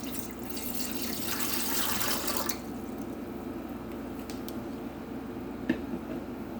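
Warm water poured into the pan of a thrift store bread machine, a close steady splashing stream for a couple of seconds, then a quieter trickle and a faint drip.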